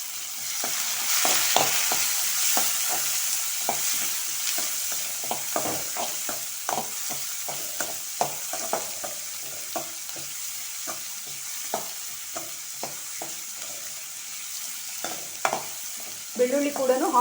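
Chopped onion fries in a pan for a vegetable palya of ivy gourd and chana, with a steady close sizzle and repeated scraping stirs. No one speaks.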